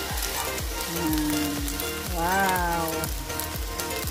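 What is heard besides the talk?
fried rice with longganisa, carrots and egg sizzling in pan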